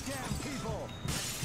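Glass windows shatter in a mall-setting video game, a bright crash that bursts out near the end after a stretch of players talking over game noise.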